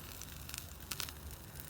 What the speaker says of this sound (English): it's still sizzling and crackling away